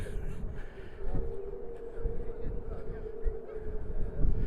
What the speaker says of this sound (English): Oh God, that is windy.